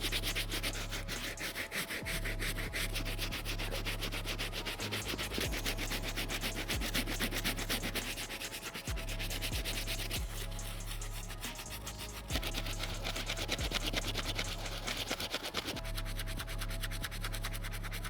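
Brisk, steady scrubbing of a soft bristle brush over the suede of a pair of Nike Book 1 sneakers, a close rhythmic rubbing with short back-and-forth strokes, with a low hum running underneath.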